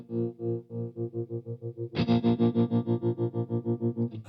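Electric guitar through a choppy tremolo pedal, chords pulsing rapidly on and off in an even rhythm, quieter at first then jumping to a louder, brighter, distorted strummed passage that keeps the same chopped pulsing, no talking.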